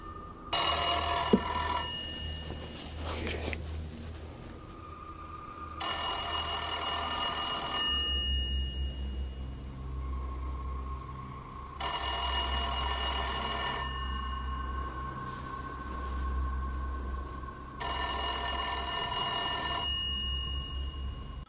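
An old telephone rings in another room, its bell sounding in bursts of about two seconds separated by pauses of several seconds. The brassy metallic ringing repeats four times over a low steady hum.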